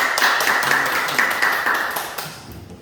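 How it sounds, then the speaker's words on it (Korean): Audience at a forum applauds as the next presenter is introduced, a brief burst of clapping that is fairly close and gradually thins out and fades. "큰 박수 부탁드리겠습니다"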